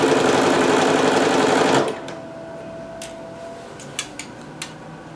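A sewing machine stitches dress fabric from a McCall's M6701 pattern, running loud and steady for about two seconds, then stopping abruptly, leaving a quiet room with a few faint clicks.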